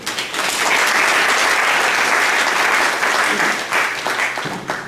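An audience at a commemoration ceremony for martyrs applauds, a dense sustained burst of clapping that swells quickly, holds steady and thins out toward the end, loud and close.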